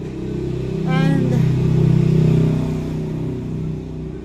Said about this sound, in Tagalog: Ang lalakas kasi ng motor pagdadaan.